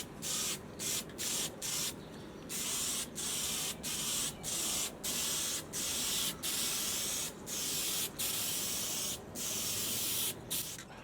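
Satin black epoxy spray paint hisses in a long series of short bursts separated by brief pauses, close and fairly loud, with no talking.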